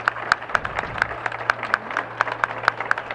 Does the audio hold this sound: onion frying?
no